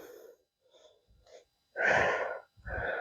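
Forceful breaths during a calm strength workout: a few soft short breaths, then two loud, close, drawn-out exhales pushed hard through the mouth, each lasting around half a second.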